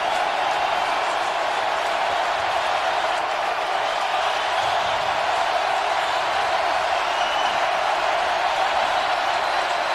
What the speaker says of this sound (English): The crowd is fully engaged and back into this one.